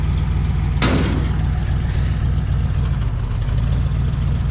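A 1930 Ford Model A engine idles with a steady, low, loping rumble, close and continuous, with a brief sharp clatter near the start.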